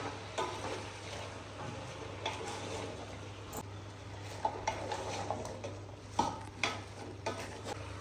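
Onions and tomatoes are stirred in a pan, a soft sizzle under repeated scraping and clinking of a utensil against metal, steady and close, with a low hum behind.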